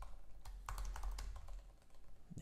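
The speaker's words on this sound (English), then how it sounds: "let's just type this in ourselves" Light, quick clicking of a computer keyboard as someone types a few short entries, soft and close, in an irregular patter with brief pauses.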